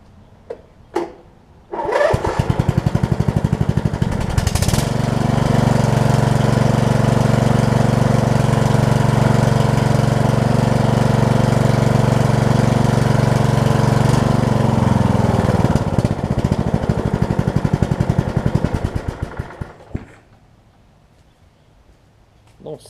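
A Huskee riding mower with a Briggs Intek engine and a slight exhaust leak cranks, catches and runs loud and steady at close range for about fifteen seconds before winding down to a stop.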